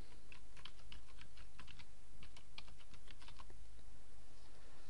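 Typing of a domain name on a computer keyboard, with rapid light key clicks in quick runs that stop near the end, close and clear over a steady low room hum.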